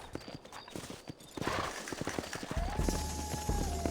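Horse hooves in Red Dead Redemption clip-clop in quick uneven steps, growing louder, joined midway by a low droning hum.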